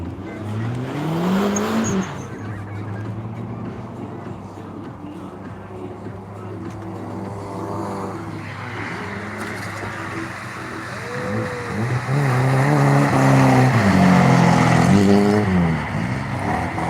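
Car engine in an action racing video game revving up and down with shifting pitch sweeps, steady and loud throughout, swelling louder toward the end with a brief squeal-like tone, no talk.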